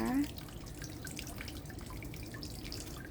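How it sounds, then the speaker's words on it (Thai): Small home garden water fountain after rain, a soft steady trickle and dripping that runs throughout at low level, with a faint voice briefly at the start. "นี่ก็คือน้ำพุเบา ๆ ที่บ้านเราเองนะคะ"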